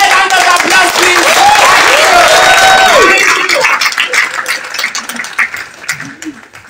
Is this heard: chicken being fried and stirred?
no